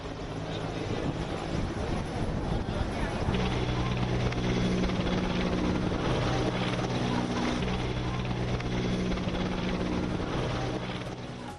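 Military helicopter passing low over a hospital in Delhi during a flower-petal shower, its rotor and engine a steady, loud, throbbing drone that fills the whole stretch without a break.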